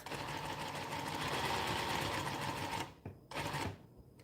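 An industrial sewing machine sews a straight stitch with a fast, steady mechanical whir for nearly three seconds, then stops and gives two brief bursts of stitching, close and fairly quiet.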